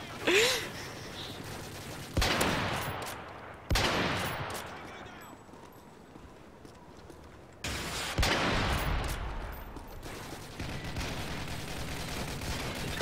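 Rapid automatic gunfire in Call of Duty: Modern Warfare 3 during an online match, loud bursts cutting in repeatedly with short pauses between them, while players chatter and laugh faintly underneath.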